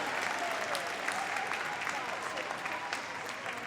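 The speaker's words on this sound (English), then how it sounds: "give them a big round of applause to leave the arena" Arena crowd applauding at a dog show as a good-citizen dog display team leaves the ring; steady, distant clapping with some speech mixed in.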